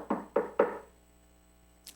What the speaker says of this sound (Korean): 찾아가서 문을 두드립니다.